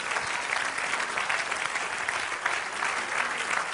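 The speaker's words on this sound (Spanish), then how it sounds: "Dale aplauso al Señor." A church congregation applauds, a dense, continuous wash of clapping that holds steady for several seconds with no voices over it.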